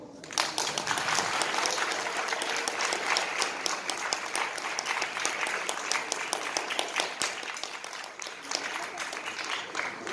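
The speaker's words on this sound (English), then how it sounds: "Ladies and gentlemen, can we please have a round of applause for Mr. M. Safir, the director of the Intern" Sustained audience applause fills a theatre festival hall, dense and steady for about ten seconds, with a faint voice or two underneath and the clapping thinning slightly toward the end.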